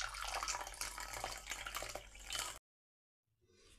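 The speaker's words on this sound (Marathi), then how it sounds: "गुळवणी मी इथे गाळून घेत" Jaggery water poured through a sieve after cooking, a steady close splashing trickle for a couple of seconds that stops abruptly into silence before a faint return of sound.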